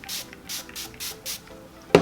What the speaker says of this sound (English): So I'm gonna go ahead and spray this.